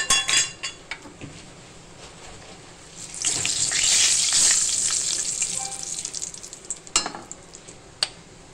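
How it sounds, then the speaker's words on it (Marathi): Green masala paste hits hot oil already seasoned with turmeric, asafoetida and garam masala for a spicy potato bhaji, bursting into a loud, steady sizzle with stirring scrapes and a few sharp clinks. "आता त्याच तेलामध्ये मी जे आपण हिरवं वाटण केलं होतं मिक्सरमध्ये, तेच वाटण आपण ह्या तेलामध्ये टाकलेलं आहे"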